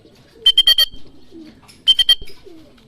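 Two short bursts of homing pigeon calls, each a quick run of four or so pulsing notes, loud and close, separated by a brief quiet gap.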